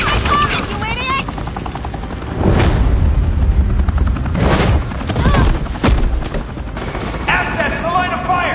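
Gunfire in the Telltale Batman video game, with bursts of shots and booming impacts over a helicopter-like drone, mixed with game dialogue and electronic sound effects.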